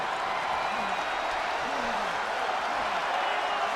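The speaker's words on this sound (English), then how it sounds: "In these types of matches, you can hear the crowd buzzing a little" A wrestling crowd murmurs in the WWE 2K22 video game during a match, a steady, dense hum of many voices with faint rising calls, loud and continuous throughout.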